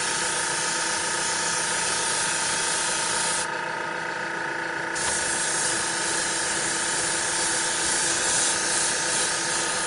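An airbrush sprays primer onto Warhammer 40k terrain, a steady, loud, close hiss running unbroken throughout, with a brief shift in its tone partway through.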